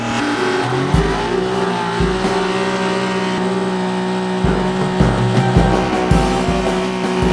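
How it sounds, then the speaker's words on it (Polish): A Fiat Cinquecento's small engine revs hard and close with no load, holding a droning pitch with repeated sharp throttle blips and bursts of revving. "Na luzie go nie skończy, nie ma szans."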